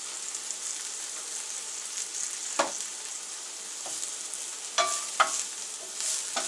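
Garlic and large shrimp sizzling together in a pan, a soft continuous hiss with a few sharp pops and utensil clicks scattered across it.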